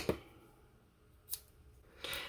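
Three crisp snips of scissors trimming ribbon tails for a woodland Christmas card, close and quiet, spaced about a second apart with no talk.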